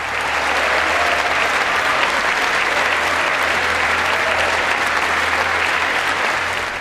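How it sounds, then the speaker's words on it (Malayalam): Members of the US Congress give President Joe Biden a standing ovation, a dense, loud, unbroken wall of applause from a large chamber holding steady the whole time. "എഴുന്നേറ്റ് നിന്നു കൈയടിച്ചു ഭരണ പ്രതിപക്ഷ ഭേദമില്ലാതെ"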